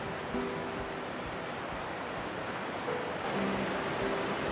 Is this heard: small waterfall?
yes